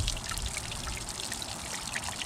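Flushing water runs and trickles out of a Mercury 1.0L outboard engine in a steady close stream, with no talking.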